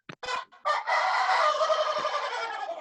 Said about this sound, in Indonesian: biar nggak ada suara ayam berkokok